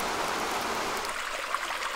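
Continuous synthetic water stream noise from a macOS background noise app, a steady dense hiss with no voices, holding an even level throughout.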